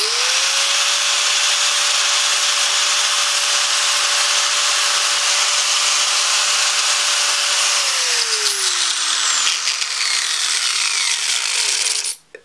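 An angle grinder held lightly against a screw head runs with a loud, steady high whine and a smooth grinding rasp, then the motor pitch sweeps down as it spins off before a few clunks at the end.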